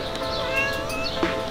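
A cat meows in a long, wavering cry with a short sharper yowl near the end, heard close and clear over a light background hum during a trip in Turkey.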